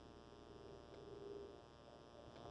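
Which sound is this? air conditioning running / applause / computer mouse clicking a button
air conditioning running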